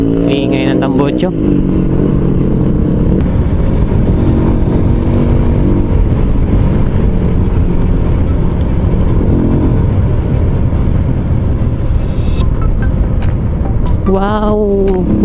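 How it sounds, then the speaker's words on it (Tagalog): A loud car exhaust roars and rumbles continuously close by on a Philippine road, with a vehicle trailing an ambulance, while excited voices talk and exclaim over the engine noise. "Ingay ng tambutso."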